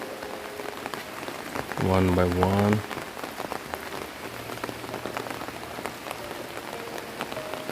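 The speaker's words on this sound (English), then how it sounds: "It's raining here" Steady rain falls outdoors with dense, even patter on surfaces throughout, while a person speaks briefly in the middle.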